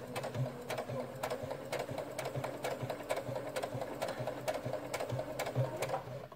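A sewing machine runs steadily, stitching bias binding onto fabric with a fast, even mechanical rattle and regular clicks, close and loud with no talking.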